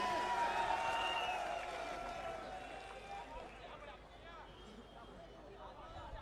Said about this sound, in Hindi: एक बार जोरदार तालियां बजा दें इमरान भाई के लिए